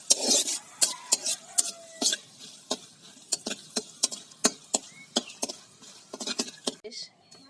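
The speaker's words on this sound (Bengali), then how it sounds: "তার জন্য শুকনো মাছগুলো তেলে নেব" Dried fish is put into oil and stirred in a pan, giving a series of sharp metallic scrapes and clatters in an uneven rhythm over a faint background sizzle, heard close.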